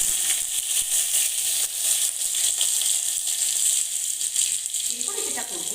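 Cumin seeds and bay leaves sizzle in hot oil for a chicken curry, a steady bright frying hiss with small crackles and pops, close and fairly loud throughout.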